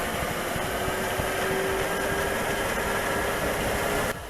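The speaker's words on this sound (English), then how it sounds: "This setup features a high-horsepower John Deere 6210R tractor paired with an Overrossen 2PV 150S snowblower." A high-horsepower John Deere 6210R tractor runs with an Overrossen 2PV 150S snowblower attached, a steady loud engine drone mixed with broad rushing noise that cuts off abruptly near the end.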